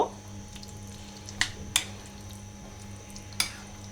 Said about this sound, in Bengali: তো এখন আমি ভেজে নেব